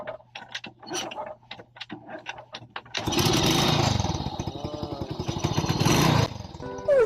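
A Euro Sports 110 motorcycle is kick-started: a few quiet mechanical clicks and kick strokes, then the engine catches and runs loudly up close with a rapid pulsing idle that revs slightly before easing off.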